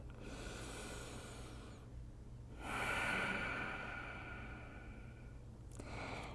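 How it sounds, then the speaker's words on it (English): Slow, deep breaths during a yoga session, a soft inhale then a longer, louder exhale followed by the start of another breath, close and quiet over faint room noise. "Another breath."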